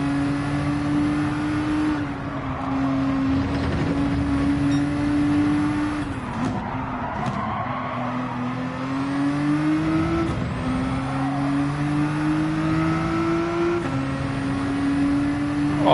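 A Nissan GT-R R35 racing car in Gran Turismo 7 drones continuously with an engine note that rises through the gears, dips when braking, then climbs again; the sound is steady, close and unaccompanied by talk.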